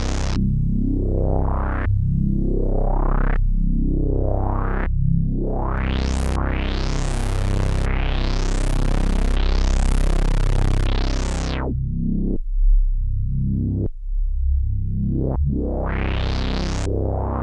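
A modular synthesizer tone sweeping up and down in pitch under automated modulation, its timbre swelling bright and harsh then dropping back, continuous and loud with no talking.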